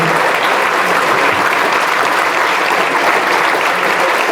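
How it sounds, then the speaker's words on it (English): Audience at a meeting breaking into a big round of applause, steady and loud dense clapping filling the whole stretch without a break. "Everybody, please, a big round of applause for Coach Norvell."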